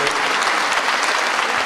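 Audience at the 4-Handi Awards 2013 ceremony applauding the president of the COCOF, a dense, even burst of clapping heard alone throughout.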